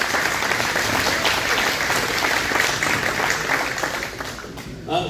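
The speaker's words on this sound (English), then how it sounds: "give them a hand" Sustained audience applause at a community club candidates' night, a dense steady wash of clapping from a crowd that holds level for about five seconds before starting to thin, with faint voices mixed in.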